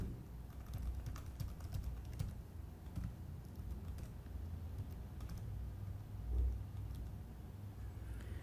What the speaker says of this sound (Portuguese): Eu vou continuar digitando aqui.